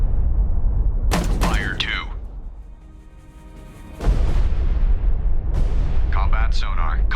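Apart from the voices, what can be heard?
depth charges fired from destroyer in video game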